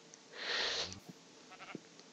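A sheep in Minecraft gives one clear bleat, followed by a few faint clicks and soft game sounds.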